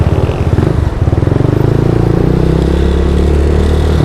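A group of four motorcycles setting off on a road trip from Mabalacat City, Pampanga, engines idling and pulling away with a loud, steady low rumble close by.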